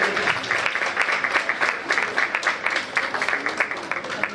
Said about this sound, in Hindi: चाहूंगा एक बार जोरदार ताली के साथ इन बच्चों का हौसला अफजाई करें